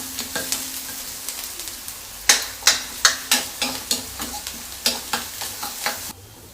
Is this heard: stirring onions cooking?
yes